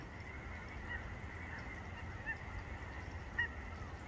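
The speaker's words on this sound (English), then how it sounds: "We got geese in the background." Faint goose honks drift in from a distance over a steady rumbling background, with a couple of slightly louder calls near the end.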